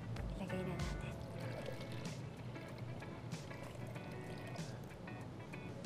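Water pours and trickles out of a homemade water filtration system into a glass, a continuous liquid splash with small drips, while people talk over it throughout.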